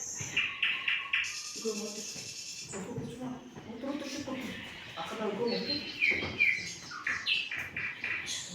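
Bright bird chirps and trills, like a nightingale singing, ring out in short bursts beneath a steady narrating voice.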